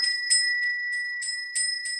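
An old, forgotten servants' bell rings spontaneously in a repeated pattern of bright, sustained tones that pulse in short bursts, close and fairly faint against a quiet background.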